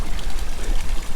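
Water gushes out of a mountainside along the Pacific Crest Trail near Campo, making a loud, close, continuous rushing and splashing.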